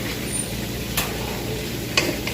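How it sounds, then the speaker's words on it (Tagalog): Onions sauté in a pan on a loaded home stove, keeping up a steady close sizzle broken by two or three light utensil taps. "gisa-gisa lang. Hanggang sa maluto ko lang ang ating sibuyas"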